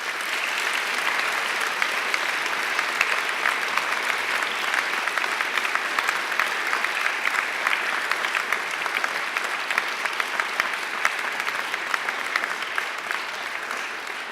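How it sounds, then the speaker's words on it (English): Sustained, even audience applause at a graduation ceremony, a dense wash of many hands clapping continuously and fairly loudly with no talk over it. "And now I invite you to give them a mighty round of applause."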